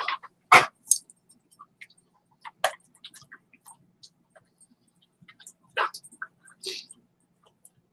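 A dog barks in a few short, sharp bursts spread across a quiet room, close and moderately loud with silence between.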